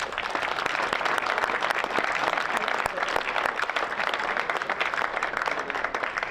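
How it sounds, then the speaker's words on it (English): A room of football club supporters and staff gives a round of applause for the club's matchday workers, a dense, steady clatter of many hands that stays even throughout. "So a round of applause for them, please."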